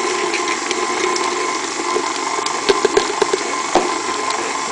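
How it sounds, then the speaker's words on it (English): A stand mixer with a paddle attachment churns chocolate chip cookie dough, a steady mid-pitched motor drone running throughout with a few light knocks near the end. "the regular mixer can take the bulk of the dough that we're gonna make"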